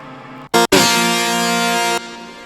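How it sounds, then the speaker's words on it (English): Horn-like blast run through a built-in pitch shifter in a Reaper mix: a short honk, a brief break, then a sustained bright, buzzy tone for over a second before it cuts off, loud and alone. "This one's from a built-in pitch shifter effect from by Reaper."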